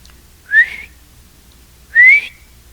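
Two short rising whistles from one person, close and clear, separated by about a second of silence.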